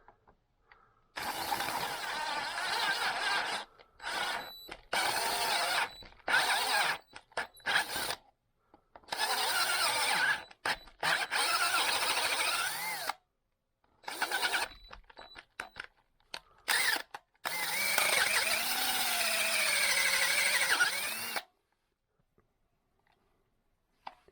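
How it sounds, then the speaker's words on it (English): A power drill with a grease-coated bit bores slowly into a part during repair work on a 2008 Kawasaki KFX450R, whirring in many short, stop-start bursts with quiet gaps between. "we're going to coat our drill with wheel bearing grease. And we'll take our time and go in nice and slow"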